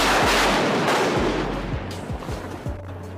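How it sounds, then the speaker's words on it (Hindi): A close lightning strike in a Florida forest lands as a loud, sharp blast that fills the opening, then settles into a deep rumbling roll with several low thuds fading over a few seconds. "तभी पीछे एक धमाका हुआ और एक जोरदार बिजली इनके जस्ट बाजू में गिरी"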